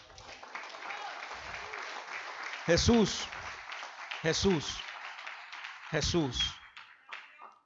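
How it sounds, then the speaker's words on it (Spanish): A church congregation applauds during a sermon, a continuous bed of clapping running underneath a preacher who calls out repeatedly over it. "Denle un aplauso al Rey."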